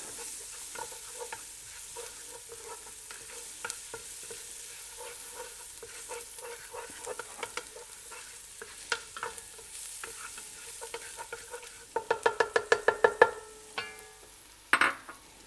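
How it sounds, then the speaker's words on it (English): Garlic, shallots and lemon zest sweating gently in a pan, a soft, low sizzle under scattered scrapes of a utensil, turning into a quick run of sharp clinking taps toward the end, close and quiet, no voices. "You don't necessarily want the garlic and the shallots to color, you just want to sweat them a bit."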